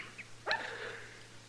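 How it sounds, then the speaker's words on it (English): A small dog in the street gives a single short bark, preceded by a faint yip, in a quiet radio drama sound effect from an old western town scene. "Hey, look at that little old dog out in the street there. He sure is playful, ain't he?"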